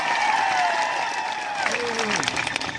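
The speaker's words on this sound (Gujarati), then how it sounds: "એકવાર જોરદાર તાળીઓ પાડી." Loud applause from a crowd at a village meeting, steady clapping filling the space with whistle-like tones and voices mixed in throughout.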